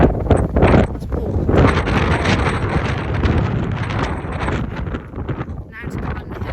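Strong wind buffets the microphone on a coastal walk at Ringstead, a loud continuous roaring rumble with gusty surges throughout, with a person talking underneath it.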